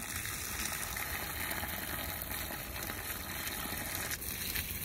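Water pours steadily onto plants in a garden, producing a continuous dense splashing rush that stays close and fairly loud for the whole stretch, with no talking.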